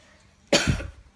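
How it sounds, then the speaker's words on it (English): A single sharp cough, close and loud, from someone in a smoky room beside a hot air engine, brief and alone. "Coughing up a storm."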